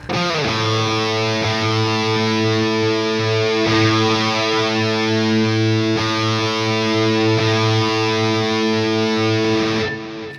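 A sustained, distorted electric guitar chord played through a UAFX pedal's chorus effect rings out shimmering and swirling, loud and steady for several seconds before cutting off.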